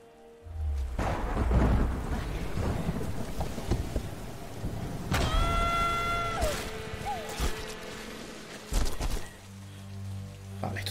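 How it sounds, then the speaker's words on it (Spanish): Thunderstorm in the Tomb Raider video game, a rolling rumble with rain and wind building loudly, layered with tonal game effects and a few sharp bangs midway before the storm noise eases. "Refúgiate de la tormenta."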